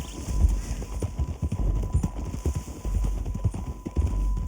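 Horse hooves clip-clopping while riding in Red Dead Redemption 2, a fast steady rhythm of dull thuds close by over a rough outdoor ground, continuous throughout.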